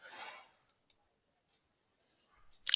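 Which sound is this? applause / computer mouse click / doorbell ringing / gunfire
computer mouse click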